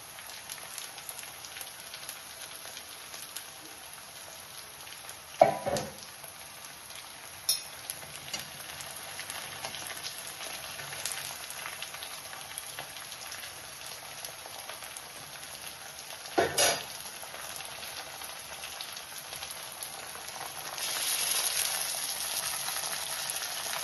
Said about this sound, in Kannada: ಈಗ ನಾನು ಮಸಾಲೆ ತುಂಬಿರೋ ಬದನೆಕಾಯಿ ಒಗ್ಗರಣೆ ಒಳಗೆ ಹಾಕೋಣ